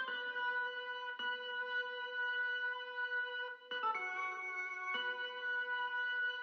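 An organ-like synth sound in an FL Studio beat holds bright sustained chords that change a few times, quiet and steady with no voices.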